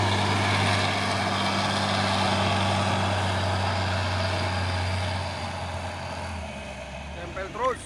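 A Pertamina tanker truck's engine runs with a steady low diesel drone and broadband roadside noise, fading slightly toward the end with a brief bump.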